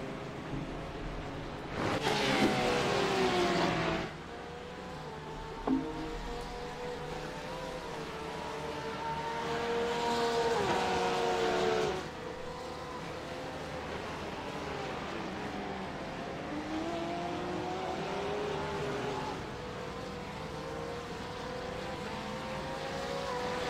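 GT3 race cars at Laguna Seca roar past one after another, engines rising and falling in pitch as they pass, loud and fairly close, with steady motor drone between passes.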